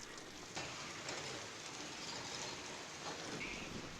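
Steady rainfall, faint and continuous, a soft even hiss of drops with no other sounds.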